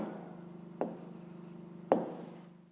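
A pen scratches across paper in a quiet room, soft steady strokes broken by two sharper taps as the tip presses or lifts.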